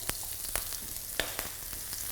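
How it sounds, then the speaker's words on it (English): Onions sizzle in hot oil in a wok for Korean potato starch noodles, a steady close hiss of frying with occasional sharp pops and crackles throughout. "So in with the onions. Want to hear that sizzle?"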